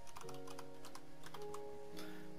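Soft keystrokes clatter on a computer keyboard in quick irregular clicks, faint beneath a steady background of sustained tones, with no talking.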